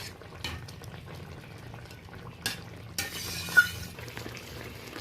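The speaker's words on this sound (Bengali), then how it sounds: "ঝোলের সাথে ভালো করে মাছগুলোকে আমি মিশিয়ে নিচ্ছি" Fried tarai fish is stirred into bubbling curry gravy, with soft intermittent scrapes and wet stirring sounds over a quiet background, plus a brief louder hiss of sizzling near the end.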